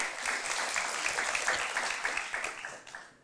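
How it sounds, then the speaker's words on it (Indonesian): A church congregation applauds during a Sunday service, a dense, steady wash of many hands clapping at close range that holds for about three seconds and then tapers off near the end. "Tepuk tangan buat Tuhan Yesus."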